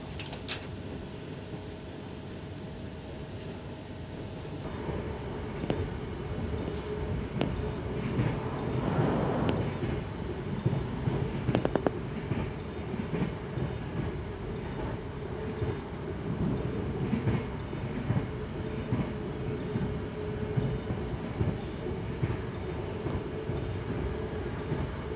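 Argo Cirebon passenger train carrying five economy cars on the Cirebon line, heard as a steady low rumble and rolling clatter that swells briefly partway through, with no talking over it.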